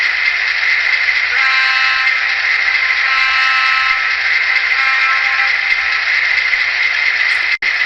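A long, sustained horn blast from a Broadway Limited SW7 model locomotive, with a bright, chord-like tone, holds steady for several seconds, ending with a short click.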